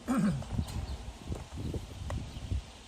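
A small shire cross horse moves nearby, with soft hoof clops and shuffling steps, a brief snort or low whinny at the start, and light rustling outdoors.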